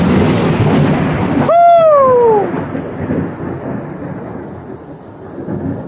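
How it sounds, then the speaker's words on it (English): A loud, close thunder crack during a thunderstorm in Colorado Springs, Colorado, with a sharp onset and a long rumbling tail over steady rain-like background noise. "2 close ones, 2 loud ones cracking like that."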